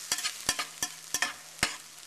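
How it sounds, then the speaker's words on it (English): Onions and mushrooms in a frying pan are stirred in a series of sharp scraping clicks, about six strokes over a faint background sizzle. "cooking up in the frying pan. You just make sure you stir them up"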